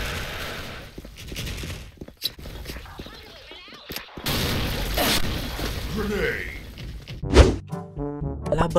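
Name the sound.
grenade explosion in Special Force video game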